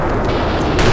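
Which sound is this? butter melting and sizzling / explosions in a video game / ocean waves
explosions in a video game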